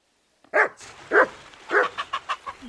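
A dog in the medieval role-playing game Kingdom Come Deliverance 2 barks loudly and close by, three spaced woofs followed by a quicker run of shorter yaps.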